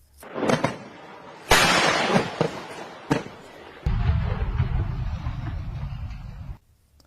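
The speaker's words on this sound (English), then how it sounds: "Take a look at the effect that the Qassam rockets create when they land." Qassam rockets landing and exploding, a series of sharp booms and bangs of uneven loudness, followed by a sustained low rumble lasting a few seconds before cutting off abruptly.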